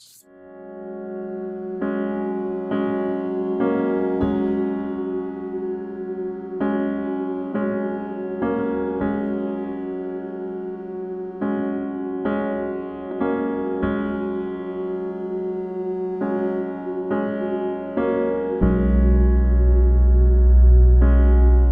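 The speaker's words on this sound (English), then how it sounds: "The sparse version consists of long sustained notes," Slow, sparse music built from long held tones that ring and overlap over a clear pulse of about 50 beats per minute, with a heavier low swell near the end.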